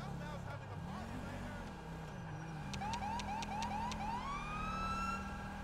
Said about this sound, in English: he's got his siren blaring